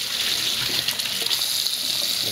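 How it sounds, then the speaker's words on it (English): A tap runs steadily over hydroponic net pots being rinsed, a continuous close, loud gush of water with faint knocks and splashes throughout. "And same with the net pots. Just give them a bit of a rinse."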